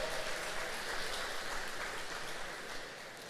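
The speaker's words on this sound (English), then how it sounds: "If we can give him a round of applause." A large audience at a city's State of the City address applauds its county mayor, a steady, soft wash of many hands clapping at a distance, even throughout and easing slightly at the end.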